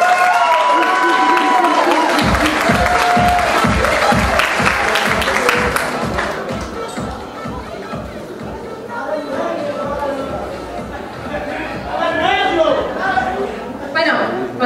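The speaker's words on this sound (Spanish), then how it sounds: "Un fuerte aplauso." An audience at the Miss Latina New Jersey 2010 pageant finals breaks into strong applause with cheering, the clapping starting abruptly and staying loud and dense for several seconds before crowd chatter takes over as the clapping fades.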